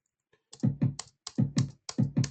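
Keys on a computer keyboard's numeric pad tapped in a steady rhythm to set a tempo, six or so crisp, close clicks in evenly spaced pairs.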